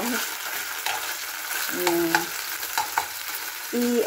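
Ground beef for tacos fries in plenty of oil in a pan, sizzling steadily up close, with a few scraping stirs and several brief tonal squeaks from the utensil.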